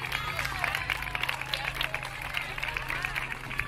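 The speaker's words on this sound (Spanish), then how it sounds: "¿Entiendes ahora lo que es un aplauso de pena?" A show audience gives thin, scattered, half-hearted clapping, sparse and uneven, mixed with crowd murmur and voices talking.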